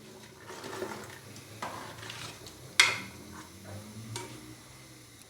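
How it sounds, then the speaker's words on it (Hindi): Stirring beef curry in a pressure cooker, a few soft scraping strokes with one sharp metallic clink of the spoon against the pot, close and fairly quiet. "पानी डालने के बाद थोड़ा इसको मिक्स करेंगे"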